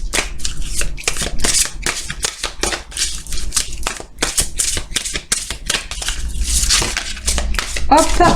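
Rapid, crisp riffling and snapping of an oracle card deck being cut and shuffled, a dense run of close, bright flicks and slaps with a voice speaking intermittently alongside.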